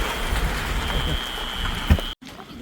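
Heavy rain pours steadily in the Dhikala forest, a dense close hiss of drops beating on surfaces, with a sharp knock near the end and a brief cut-out before the downpour continues.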